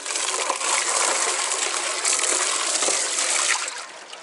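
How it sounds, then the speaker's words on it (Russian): Water gushes steadily into a bucket, a dense, loud splashing pour that runs unbroken for about four seconds and eases slightly at the end, with no talking. "Набрать воды."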